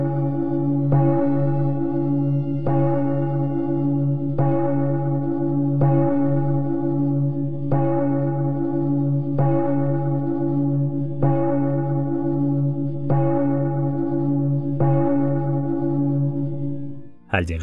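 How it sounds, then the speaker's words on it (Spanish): Church bells toll as a sound effect, slow evenly spaced strikes, about nine of them, over a sustained ringing hum, loud and alone. "Prestó atención al tañido de las campanas,"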